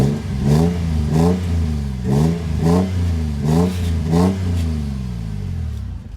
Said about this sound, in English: Give it another little rev.